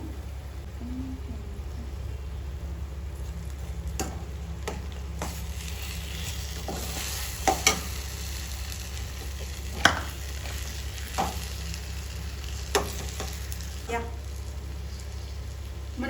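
Stuffed brinjal masala curry simmering gently in a covered pan on low heat, a soft steady bubbling hiss with a few faint clicks and taps, close and fairly quiet.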